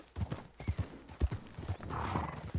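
Hooves clip-clop in a quick galloping rhythm, with a short horse whinny, over a background hum in the video game Red Dead Redemption 2.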